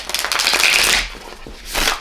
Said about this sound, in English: I'm gonna shuffle some tarot cards.